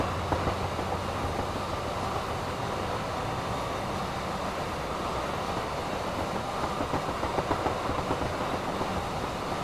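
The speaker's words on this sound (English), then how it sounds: "it's quite a long freight train for what we're used to in TSW" A long DB Cargo freight train of 22 empty wagons runs steadily in Train Sim World, giving a continuous rumble with rhythmic clickety-clack from the wheels throughout.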